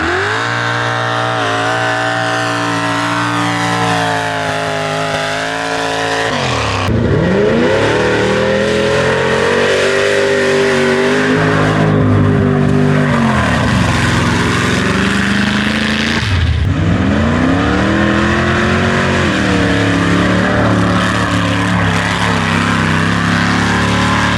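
Off-road vehicles rev hard and race through a muddy bog pit at the Sun River Mud Bog 2024, their engines roaring loud and close, climbing and dropping in pitch in repeated surges with no talk.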